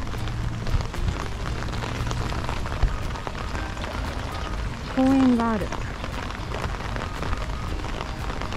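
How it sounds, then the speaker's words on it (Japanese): Steady rain falls through a park on a wet afternoon, a constant hiss of drops on surfaces throughout, with a person speaking briefly and a short rising squeal partway through. "ちょっと雨も強くなってきましたし、まっすぐ家に帰りました"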